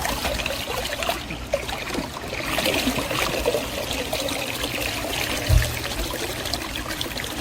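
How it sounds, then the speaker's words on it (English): Water drains and trickles out of a cordless robotic pool vacuum (AQUVII) just lifted from the pool, a continuous splashing dribble at close range with a brief knock partway through. "pull it out, let the water drain out of it"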